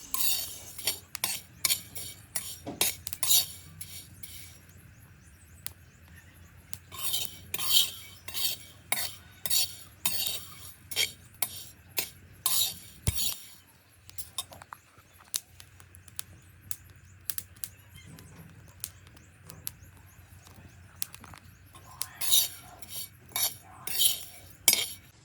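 A grain is dry-roasted in a pan until deep reddish, the spoon scraping and stirring in repeated bursts of close, crisp clinks and rattles, with short quieter pauses between.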